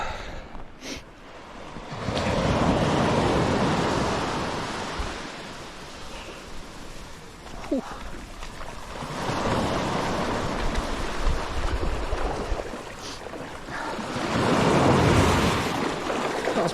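Sea waves splash and surge along the Southwest Coast near Plymouth, rolling in three broad washes of surf with wind buffeting the microphone between them, no voices.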